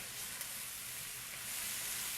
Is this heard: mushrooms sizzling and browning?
yes